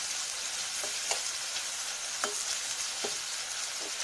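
Onions fry in a pan until translucent with a steady close hiss, broken by a few soft stirring scrapes. No one speaks.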